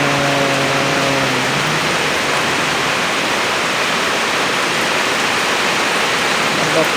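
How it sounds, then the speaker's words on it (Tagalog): Heavy rain pours in a dense, steady roar that stays loud and unbroken throughout, with a brief hum of a voice in the opening second. "Lakas na naman ang ulan."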